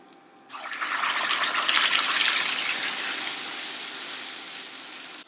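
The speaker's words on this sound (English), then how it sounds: "Let the onion saute for a while." Onion paste hits melted butter in a hot vessel and bursts into a loud, hissing sizzle that peaks quickly, then settles into a steadier, slightly softer fry, close and without any voices.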